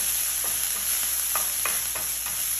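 A Filipino-style potato mixture with coriander leaves is stirred in a hot pan, with soft repeated scraping strokes over a continuous sizzle, close and steady with no voices.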